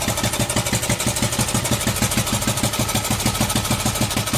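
A 41-year-old imported Honda XL125S motorcycle with a single-cylinder engine ticking over at idle, close and loud, with a steady rapid even pulse and no voices.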